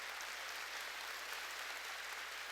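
Church congregation clapping during a sermon, a faint, even wash of many hands heard from a distance, steady for a couple of seconds.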